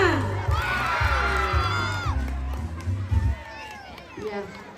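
Crowd of children cheering and shouting for a school dance performance at a scout camp, loud and continuous with whoops, under an announcer's voice and ringing tones.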